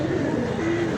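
A pigeon gives a low, soft cooing call close by, one steady murmuring phrase lasting about a second, with no talk heard over it.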